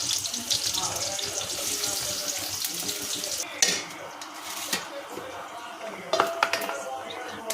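Water running from a kitchen tap while hands are rinsed, a steady close splashing stream with a few clinks of dishes and utensils, a voice briefly audible.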